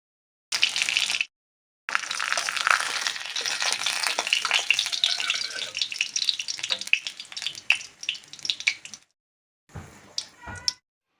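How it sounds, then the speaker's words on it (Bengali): Catla fish heads frying in hot oil, a loud, continuous crackling sizzle with spitting pops, broken by brief quiet gaps and a few handling clatters near the end. "এখন আমি মাছের মাথাগুলো ভাজা করে নেব"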